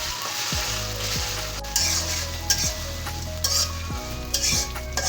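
Ginger, garlic, onion and green chili paste hits a pan of frying onions for beef tripe curry, sizzling steadily while a spoon scrapes and stirs in repeated strokes, with a few sharp metallic clinks against the pan.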